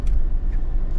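Cars rumble along a busy street in the Florida Keys, a loud, close, low roar of passing traffic with a brief whoosh as one goes by.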